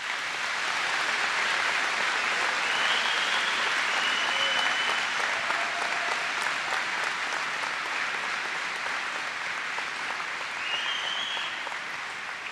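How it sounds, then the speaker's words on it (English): Graduation ceremony audience clapping for honor cord students, a sustained, even roar of applause filling the hall for over twelve seconds with a few faint cheers. "Please give these students a hand of applause."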